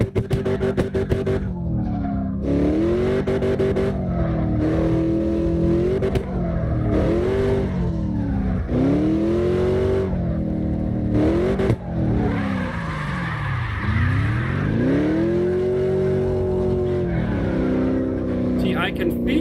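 Sliding car engine in the CarX Drift Racing Online game, revving hard with rising and falling pitch sweeps and tire squeal, loud and continuous throughout with a brief cut near the middle.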